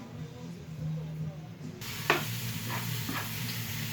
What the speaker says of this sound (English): We're frying this up.